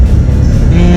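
A car being driven home after shopping, with a loud, continuous low engine and road rumble heard from inside the cabin for a brief moment.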